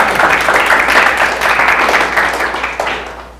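An audience at a photography talk concert claps together to welcome a speaker, a dense, even wash of applause that holds steady and then gradually thins toward the end.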